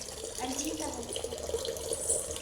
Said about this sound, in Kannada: ಯಾರೋ ಇಲ್ಲಿ ಹೀಗೆ ನೀರು ಬಿಟ್ಟಿದ್ದಾರೆ